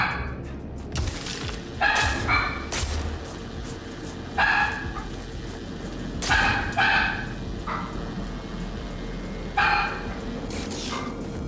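Dog barking in The Surge 2, several loud separate barks and yips spaced a couple of seconds apart over a low ambient rumble.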